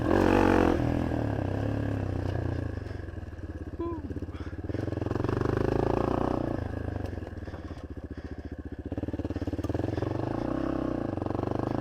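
A Yamaha XT250 dual-sport motorcycle rides an off-road trail with its single-cylinder engine droning steadily and surging in waves as it accelerates, with clattering over rough ground; a rider talks throughout.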